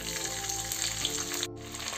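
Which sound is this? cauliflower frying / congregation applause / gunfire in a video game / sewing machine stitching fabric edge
cauliflower frying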